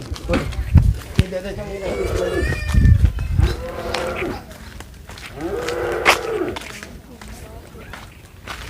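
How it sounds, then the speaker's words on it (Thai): Cattle at a Thai livestock farm let out several drawn-out moos, some loud and close and others softer, while people talk nearby throughout. "เดี๋ยวไปดูแม่เสือนะครับซึ่งเป็นวัว"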